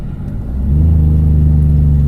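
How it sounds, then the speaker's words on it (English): A vehicle engine rises into a loud, steady low drone with a rapid pulsing rattle, like a Jake brake engaging, running close by with no speech. "This thing sounds like it has Jake brakes."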